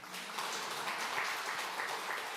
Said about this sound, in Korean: 참 우리 장로님 박수를 한번 쳐줘야 될 것 같아요.